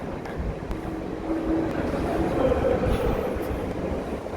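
A train rolls past in Christchurch, New Zealand, a steady loud rumble of wheels and carriages on rails that builds slightly midway and holds, with no voices.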